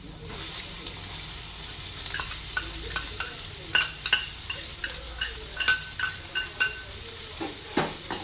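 Chopped onion, green chili and curry leaves fry and sizzle steadily in a pan for pav bhaji, with a few sharp stirring scrapes and clinks breaking through the close, continuous hiss.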